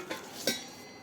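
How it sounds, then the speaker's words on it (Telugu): A German silver water pot is handled, giving two soft metallic clinks within about a second, faint and alone with no talking. "ఇది జర్మన్ సిల్వర్ చెంబు."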